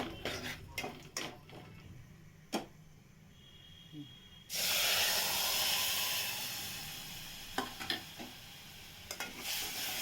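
Garlic, cumin, curry leaves, asafoetida and red chilli powder tossed into hot oil for a dal tempering: scattered clicks first, then a sudden loud hissing sizzle that swells and slowly fades, with a few sharp knocks near the end.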